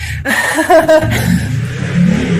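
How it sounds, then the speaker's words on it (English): A loud motorcycle engine rumbles and revs nearby, a low throaty roar that rises briefly and then holds steady. "My neighbor's got a motorcycle that's loud."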